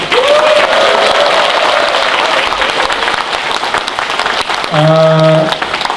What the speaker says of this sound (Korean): 또 와주신 모든 분들 서로 오늘 수고하셨다 하는 그런 격려의 박수로 먼저 한번 부탁을 드리겠습니다